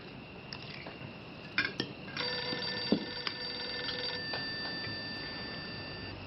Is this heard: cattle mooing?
no